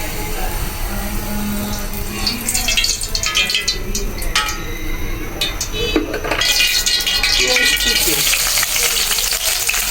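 Onion frying in hot oil in a pan, a loud, close crackling sizzle with bursts of spattering and stirring scrapes that swell toward the end.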